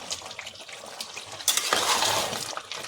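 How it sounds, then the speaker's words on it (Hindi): Chicken stew with tomatoes and peas frying on high heat in a pan, a steady sizzle with stirring scrapes and soft clinks of utensil on metal, louder bursts of hiss in the second half, no talking. "बस इसको गैस तेज करके आप भून लीजिए"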